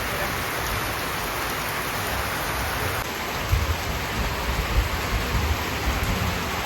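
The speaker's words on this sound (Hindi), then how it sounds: "बाकी आज का बहुत जोर वर्षा होछे हमर आड़े" Heavy rain pours outside a house in a steady, dense hiss, with a few slightly louder splashes and thuds scattered through the second half.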